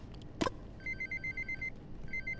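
A telephone rings in the video game Abiotic Factor, a repeated electronic trill in short regular bursts after a brief sharp click, with no talking.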